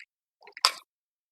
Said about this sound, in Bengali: নারকেলটা ফাটিয়ে নিচ্ছি। জলটা বের করে নিলাম।